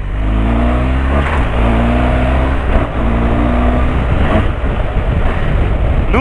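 A loud motorcycle engine roars and revs steadily up close, with wind buffeting the microphone throughout.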